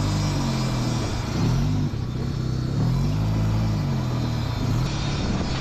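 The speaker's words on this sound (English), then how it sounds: "Did I just spin the tires?" A 13B rotary-swapped go-kart revs hard close by, its engine note rising and falling in loud sustained sweeps, with the tires spinning under power.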